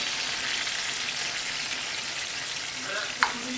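Cream is poured into a hot pan and sizzles softly and steadily throughout, with a brief sharp clink near the end.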